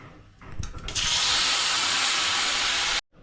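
Fish rubbed with salt and turmeric drops into hot oil in a pan and erupts into a loud, steady sizzle that hisses evenly for about two seconds before cutting off abruptly, with a few handling clatters just before.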